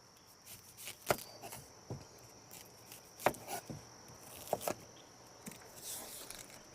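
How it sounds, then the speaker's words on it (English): A Vidalia onion chopped on a cutting board, a handful of faint, sparse knife strikes spaced irregularly against quiet background hiss. "And then we'll cut up the onion."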